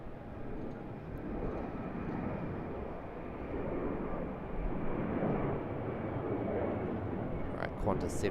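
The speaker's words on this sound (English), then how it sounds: "Absolutely huge aircraft, and it just lifts up into the sky," Airbus A380 taking off at Sydney Airport, a broad, steady engine roar heard at a distance, rising slightly, with faint talk over it.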